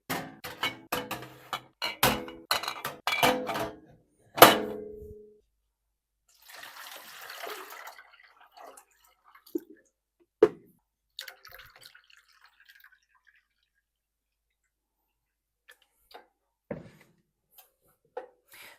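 Dyed yarn skeins go into water in a double boiler: a quick run of clattering knocks and splashes at the start, then scattered faint drips and small watery sounds over long quiet stretches.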